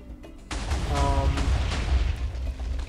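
A cannon shot explodes during a Minecraft Factions raid, a sudden heavy boom followed by a sustained low rumble that lingers for a couple of seconds.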